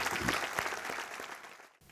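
Applause from a church congregation thanking God during a Marathi sermon, a dense wash of many hands clapping steadily at close range, then cutting off abruptly near the end.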